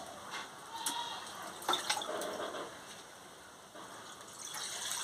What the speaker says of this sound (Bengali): পরিমাণ মতন জলটা দিয়ে দিচ্ছি